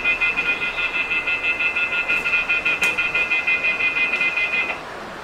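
A temperature alarm on a mobile phone repair station, set to 150 degrees, beeps in a fast, steady pulsing pattern for almost five seconds before cutting off. It is loud and close, with no voices.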